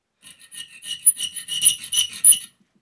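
Steady back-and-forth rasping of a file cutting an angled groove into a metal pin clamped in a vise, close and fairly loud, in uneven strokes for about two seconds, with no talking.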